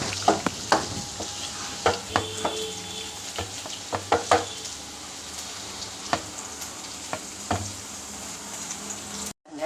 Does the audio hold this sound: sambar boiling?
yes